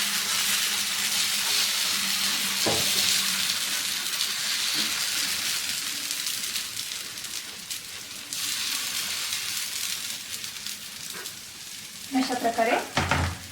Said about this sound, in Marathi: आपण आता ह्याच्यावरती दुसरा चिला घालून घेऊया अशा प्रकारे थोडंसं पळीने हे बॅटर आपल्याला गोलसर असं करून घ्यायचं आहे